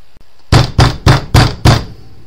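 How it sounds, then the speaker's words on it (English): Five heavy, evenly spaced knocks pound on a front door at night, loud and close in a quiet room. "I finally woke up close to midnight by pounding on the front door"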